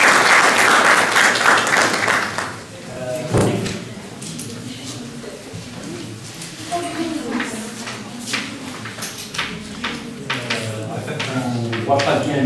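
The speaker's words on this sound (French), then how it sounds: "Vous applaudissez votre ami." Loud applause from university students in a thermodynamics class for about two and a half seconds, then fading into murmuring voices and shuffling.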